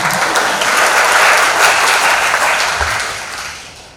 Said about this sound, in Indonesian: sekarang gantian saya bilang tepuk tangan